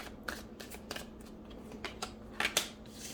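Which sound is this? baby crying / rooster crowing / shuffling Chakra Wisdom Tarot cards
shuffling Chakra Wisdom Tarot cards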